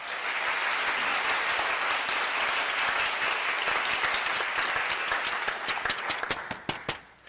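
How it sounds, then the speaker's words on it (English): Dense, sustained applause from an audience at a city-wide assembly on the future of Memorial Auditorium, loud and steady for most of the stretch, then thinning into a few scattered last claps near the end. "When I'm done applauding"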